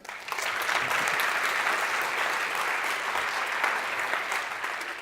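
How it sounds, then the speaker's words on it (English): A conference audience at a front-end developer talk applauds steadily and evenly, a dense wash of clapping that holds for the whole stretch without talk. "Another round of applause for Andre."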